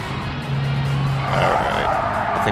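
Tires squeal and skid as a European classic compact car brakes hard into a corner in Gran Turismo 7, a sustained screech over the engine drone, loud and close.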